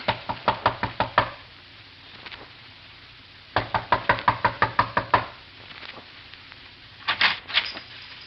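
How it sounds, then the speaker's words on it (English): Knuckles rap on a door in three sharp bursts of rapid knocks, each run of six to eight raps separated by pauses, loud and close in an otherwise quiet interior scene. "Knock."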